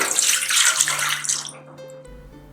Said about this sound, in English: We need 320 ml of water